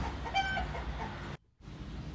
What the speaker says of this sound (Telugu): రే రాంబాబు, రాత్రే కొత్త కోడి పుంజి వచ్చింది